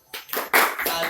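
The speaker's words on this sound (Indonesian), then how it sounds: "kita kasih tepuk tangan dulu untuk Bapak Andi" Clapping from a small group in a training session, a few uneven bursts of hand claps close by, loud and irregular over about a second.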